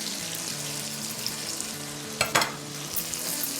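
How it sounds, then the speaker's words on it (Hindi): Coriander powder, red chili powder and turmeric sizzle quietly in a pan for Hyderabadi-style veg biryani, a soft steady fry broken by a couple of brief spoon scrapes near the end. "इसको भूनेंगे।"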